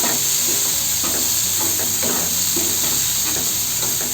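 Sundal sautéing in a pan with coriander leaves sprinkled on top, a loud steady hiss of steam and sizzle with rhythmic stirring scrapes, close up with no talk.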